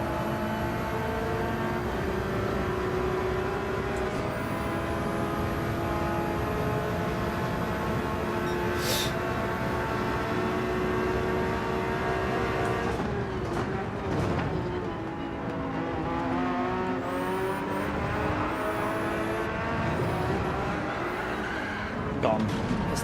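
A Porsche race car engine in Gran Turismo 7 winds up steadily through the gears, its rising tones shifting as it accelerates, while a voice talks over it.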